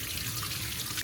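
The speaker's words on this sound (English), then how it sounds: "make sure to wash your vegetable well" Water running from a kitchen tap while vegetables are washed, a steady close splashing rush with no pauses and no talk.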